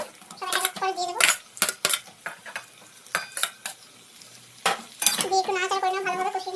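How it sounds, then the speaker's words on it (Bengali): Cauliflower florets and pre-fried potatoes being stirred in a cooking pan for an egg curry, with scraping and clatter of a spatula over a light sizzle, while a voice talks in bursts over the cooking sounds. "দিয়ে একটু নাড়াচাড়া করে নেবো, ভালোভাবে কষিয়ে নেবো।"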